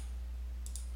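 A few faint, sharp computer mouse clicks in quick succession while working in Autodesk Inventor CAD software, close and isolated against a steady low hum.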